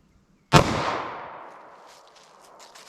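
A single 9mm shot fired with Atlanta Arms 124 grain jacketed hollow point ammunition, a sharp loud crack followed by a long decaying echo, with faint clatter afterwards.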